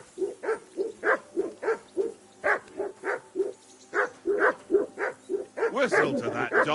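Repeated rhythmic woofs from a dog near a riverbank camp, close and persistent, ending in a louder, more agitated burst.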